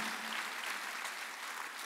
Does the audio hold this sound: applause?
yes